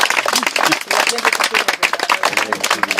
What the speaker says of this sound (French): les applaudissements vont déjà aller vers vous